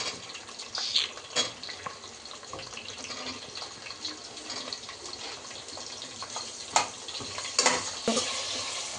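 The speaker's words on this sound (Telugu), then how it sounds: "ఇప్పుడు కట్ చేసిన ఆనియన్స్ వేసుకుని ఫ్రై చేయాలి" Chopped onions and spices fry in a pan for chicken donne biryani, giving a steady soft sizzle with occasional stirring clicks and scrapes.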